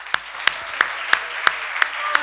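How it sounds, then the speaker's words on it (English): Applause closing an ILS 2020 conference plenary session comes through as seven crisp, evenly spaced claps, about three per second. They sound close and distinct, like a single clapper. "let's give him a big round of applause"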